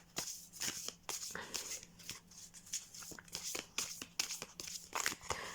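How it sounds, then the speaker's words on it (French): A deck of oracle cards is shuffled near the microphone, a quick run of soft riffling snaps and papery slides in uneven bursts, fairly quiet and heard alone. "Voilà, on va les mélanger pour en tirer une."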